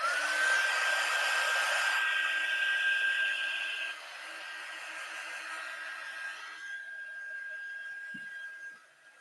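Hair dryer blowing steadily to dry paint, a loud continuous whir that drops to a lower, softer setting partway through and fades near the end, with no talking.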